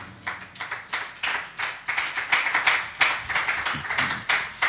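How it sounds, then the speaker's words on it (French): Church congregation clapping in bursts, a crisp, irregular patter of many hands rising and falling, fairly close and filling the whole stretch with no talking over it. "Est-ce qu'on peut acclamer la parole de Dieu?"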